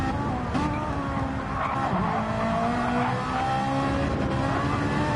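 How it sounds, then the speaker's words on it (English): A Ferrari in Gran Turismo 7 drifts on worn-out tyres in a four-wheel slide, its engine droning steadily while the tyres squeal continuously throughout the passage. "Look at that, four-wheel drift. Let's go from off-board and watch him drifting this Ferrari"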